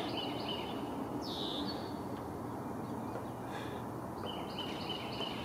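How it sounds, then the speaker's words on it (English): A belted kingfisher calls from a distance at a lake in a Tennessee state park, brief high-pitched cries standing out over steady outdoor background noise. "Oh, there's a belted kingfisher over there."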